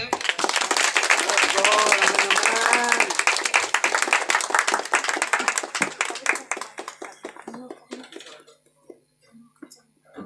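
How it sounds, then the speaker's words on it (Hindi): An audience at an engagement ceremony bursts into loud, dense clapping that rolls on for several seconds, then thins into scattered claps and dies away, with a voice speaking over the start. "जोरदार ताली बजाए इधर"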